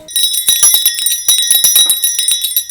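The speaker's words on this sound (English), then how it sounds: "Volume warning, there's going to be a bunch of ringing." Small bells jingle loudly and continuously in shaky, uneven bursts on a Polar Express ride, close up and bright, with no voices.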